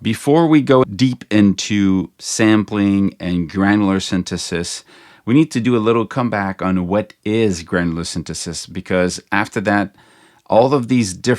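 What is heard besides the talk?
No everyday noise stands out behind the speech.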